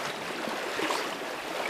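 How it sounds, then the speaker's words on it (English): Fast river water surges and rushes steadily around someone wading above knee depth in a wild brown trout stream, a dense, close, continuous roar with no pauses. "you can see how fast and how much water's pushing"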